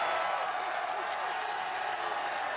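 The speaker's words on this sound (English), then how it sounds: "And the crowd is going wild." A large arena crowd at the American Ninja Warrior USA versus Japan competition cheers and applauds in a steady, roaring wash of noise that carries on without a break.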